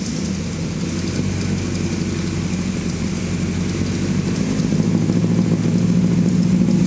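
Freshly rebuilt car engine idling after camshaft break-in, a steady low rumbling drone that grows slightly louder and rougher toward the end, close by with no talking.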